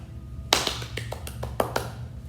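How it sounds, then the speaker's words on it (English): Children in a creative arts class clap their hands during a morning greeting song, giving about six sharp, fairly quiet claps at uneven intervals over a low background hum. "I'll start it all with a hand clap"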